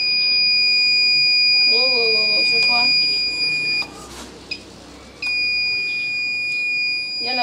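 A steady high electronic alarm tone from a home-built electronics project, triggered by approaching a house, sounds continuously with a brief break partway through, while a person speaks briefly beneath it.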